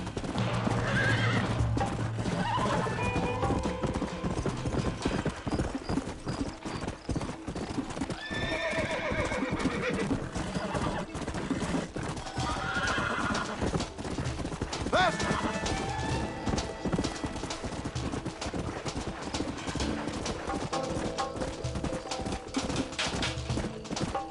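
Horses in Red Dead Redemption neigh and whinny over continuous clip-clopping hooves, with occasional voices mixed into the busy, loud scene.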